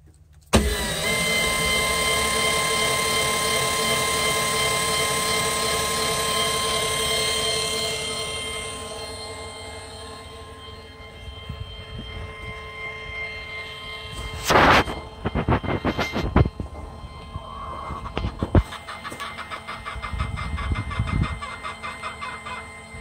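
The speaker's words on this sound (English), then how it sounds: "raise chicken roof." A motorized chicken coop roof set to open on a voice command to a smart speaker gives a steady mechanical hum for about ten seconds, then stops, followed by scattered clunks, rattles and a few clucks from the hens inside.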